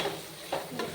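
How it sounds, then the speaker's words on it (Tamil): Spices with a pinch of asafoetida frying in a pan for banana flower biryani, a soft steady sizzle with faint stirring scrapes, close and quiet. "இது வந்து நல்லா நம்ம ஃப்ரை பண்ணோம்"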